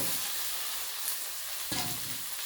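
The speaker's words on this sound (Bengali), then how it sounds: "দিয়ে এবার একটু নাড়িয়ে দেবো" Soybean pispas with fried vegetables being stirred in a hot pan, a soft steady sizzle with a couple of brief scraping strokes, fairly quiet and close.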